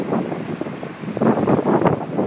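Breezy late-fall wind in the Blue Ridge Mountains near Harrisonburg, Virginia, gusting against the microphone as an uneven rumbling buffet that swells and dips over a couple of seconds, with no voices.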